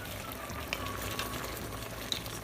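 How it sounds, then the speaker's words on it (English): Sri Lankan crab curry simmering in a covered pot, a steady soft bubbling and sizzling hiss with faint scattered pops, even and continuous at low level. "it's been simmering for 10 minutes now"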